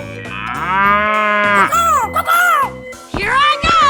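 A cow in a 3D animal sliding video game gives a loud, drawn-out moo followed by a couple of shorter bellows, with a voice briefly heard alongside.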